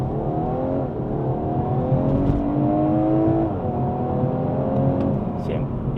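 An Audi A5 Sportback accelerating, its engine note rising steadily in pitch as it pulls through the gears, with a brief dip partway through. The sound is continuous and moderately loud from inside the car, and a voice talks over it.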